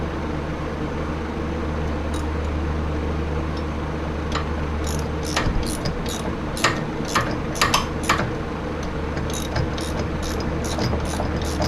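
A ratchet tightens a 17 mm bolt fastening the fork to the coilover during a track car suspension build, giving bursts of close clicking over a steady low mechanical hum.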